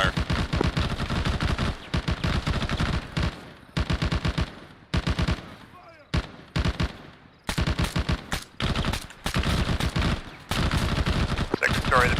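Heavy gunfire in the Arma military video game, repeated loud bursts of automatic fire and single shots cutting in and out over about twelve seconds, close and dominant.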